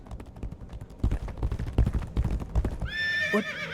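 Horse neighing loudly near the end of a Legacy of Kain game scene, preceded by heavy hoofbeats and clattering impacts, the whinny rising sharply and trailing off.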